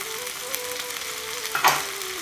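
Cumin powder, red chili powder, salt and cashews sauté for a butter chicken sauce, giving a loud continuous sizzle with a faint steady hum and a sharper spatter of spoon scraping near the end.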